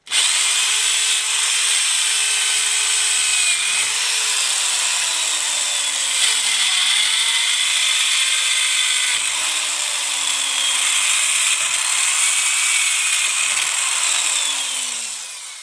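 A power drill with a narrow bit whines loudly and steadily into wood while an axe is being hafted, the pitch dipping as it bites in and recovering, running continuously for the whole stretch.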